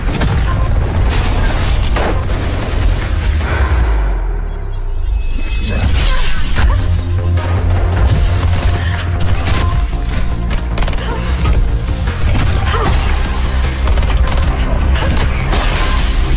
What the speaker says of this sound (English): Noah, I can see them shooting at her.